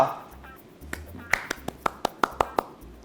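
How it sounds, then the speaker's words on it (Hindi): A few sharp, evenly spaced claps from a talk show audience ring out one after another over a quiet background, a sparse, unenthusiastic handclap rather than full applause. "तालियों में जोश नहीं आ रहा शहजादी?"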